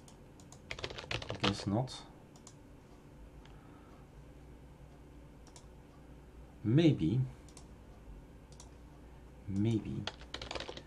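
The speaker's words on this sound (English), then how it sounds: "Let me type." Typing on a computer keyboard during an Arch Linux install, three short bursts of quick clicking keystrokes, close, with someone speaking briefly between them.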